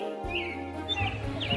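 Cartoon sparrows chirping in quick, bright tweets and rising calls, repeated several times over a steady musical background.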